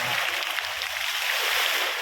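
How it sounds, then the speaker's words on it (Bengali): Fast-flowing water rushing at a large pond, a steady broadband hiss and churn that runs unbroken and fairly close, with no voices over it. "ও পানি দেখ না কি স্পিড মারছে।"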